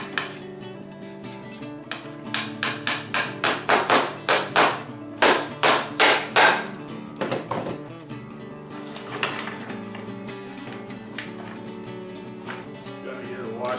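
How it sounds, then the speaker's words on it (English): A hammer taps four bolts into a table in a quick, evenly spaced run of bright metallic knocks, followed by a few scattered softer clinks and quiet handling. "Hey, gently tap in the 4 bolts."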